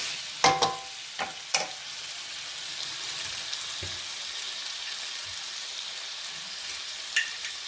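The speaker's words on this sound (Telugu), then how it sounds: "బాగా ఫ్రై చేద్దాము." Drumsticks fry in a pan with a soft, even sizzle, opened by a few clear knocks and scrapes of a spatula, then settling into a quieter steady hiss.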